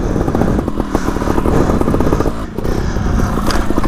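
A dirt bike engine revs loudly and steadily, then climbs up and over an obstacle, with clattering and scraping as it rides close by.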